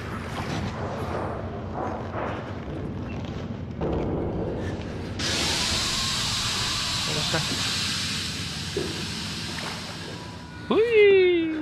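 Steam hissing in the horror video game Outlast, a sudden loud broad hiss that bursts in partway and holds steady, over dark ambient rumbling, ending with a rising tonal sweep.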